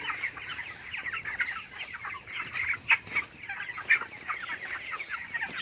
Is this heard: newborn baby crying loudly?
no